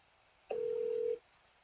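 A single steady electronic tone sounds for under a second as a phone call is placed in the Call of Duty game, standing alone against a quiet background.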